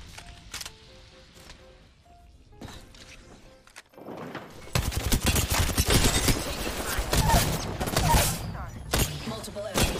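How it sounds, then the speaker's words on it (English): Gunfire rattles in the battle royale game Apex Legends, first as scattered single shots and then as dense, loud sustained bursts that fill the second half. "Opening fire."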